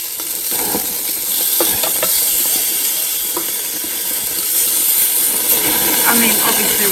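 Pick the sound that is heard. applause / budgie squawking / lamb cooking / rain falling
lamb cooking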